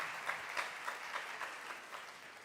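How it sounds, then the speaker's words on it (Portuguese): Steady applause from a church audience, rhythmic clapping with regular peaks, sustained and fairly even throughout with no talk over it. "Aplauda aí o Senhor pela vida desse homem."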